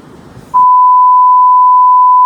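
A censor bleep from a Marathi travel vlog cuts in after a brief murmur of voice: a loud, steady, pure single tone holding unbroken for nearly two seconds.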